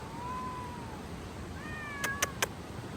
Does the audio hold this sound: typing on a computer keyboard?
no